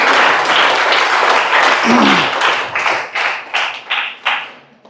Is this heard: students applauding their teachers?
yes